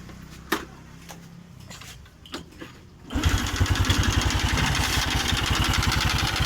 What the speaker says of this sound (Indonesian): Ini coba kita hidupkan motornya.